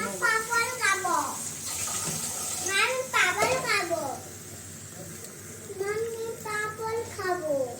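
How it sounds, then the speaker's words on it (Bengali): Water runs and splashes as it is poured into a pot of fish curry with fish heads, in bursts of gushing flow. Voices talk over it, including what sounds like a child. "এগুলো আরেকটু জল দিয়ে দিব"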